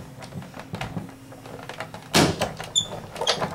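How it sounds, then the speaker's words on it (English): A Sizzix Big Shot die-cutting machine is cranked by hand, giving a run of uneven clicks, bumps and creaks with a louder clunk partway through, close by in a quiet room. "I'm going to send it through just on my standard Big Shot machine. And roll it forward, roll it back."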